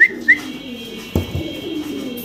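Pigeons kept for sale coo close by in two short, loud calls at the start, followed by softer low cooing and a brief knock partway through.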